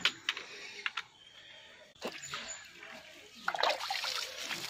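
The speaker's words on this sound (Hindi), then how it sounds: "ये पानी देवे गछर" Water splashing and trickling onto potted flowering plants being watered in a plant nursery, uneven close splatters with a louder burst near the end.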